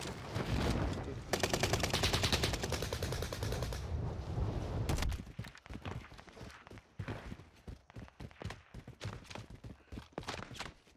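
Gunfire in the Warzone Caldera battle royale game, a sustained burst of rapid shots followed by a long run of sharp, loud, irregular cracks and reports, some near and some farther off.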